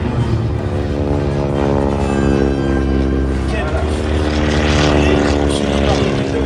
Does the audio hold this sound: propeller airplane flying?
yes